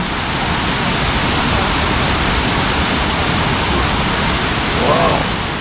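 Tad Kuang Si waterfall near Luang Prabang, Laos, gives a loud, steady broadband rush of falling water, continuous throughout, with a faint voice briefly audible near the end.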